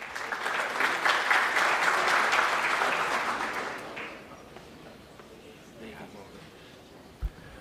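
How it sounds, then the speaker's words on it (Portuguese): Loud applause from a crowd at the close of a corporate investor meeting fills the first four seconds, then fades out into quieter room noise with a single sharp knock near the end. "Uma salva de palmas, por gentileza."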